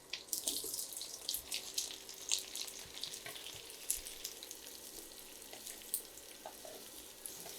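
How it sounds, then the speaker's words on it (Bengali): Carrots frying in ghee for gajar halwa give a soft, steady sizzle broken by small crackles and pops, fairly quiet and close, with no talking. "ঘিয়ের মধ্যে গাজরগুলো ভেজে নিতে হবে"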